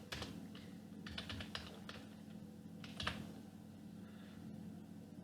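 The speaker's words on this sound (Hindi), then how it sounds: "इसके बाद यहाँ पर हम टाइप करेंगे मुंबई" A word typed on a computer keyboard: a short, quiet cluster of quick keystrokes over a low room hum, then a couple of isolated taps.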